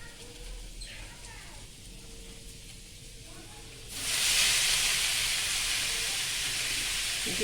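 Potatoes lightly frying in a pan on a home stove: a quiet kitchen backdrop gives way midway to a sudden, loud, steady sizzling hiss that carries on to the end.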